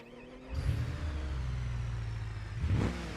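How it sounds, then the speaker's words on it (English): A loud, raspy mud truck engine in the video game BeamNG idles and revs without a muffler, rising sharply at the start and again near the end. "We took off the muffler. Hopefully it's not too loud."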